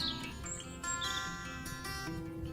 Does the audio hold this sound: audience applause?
no